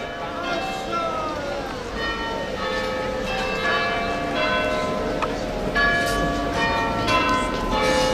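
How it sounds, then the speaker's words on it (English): Carfax church bells in Oxford ring in overlapping, sustained peals over a busy crowd of protesters, with people talking underneath. "And that is the sound of Oxford, the bells of Carfax."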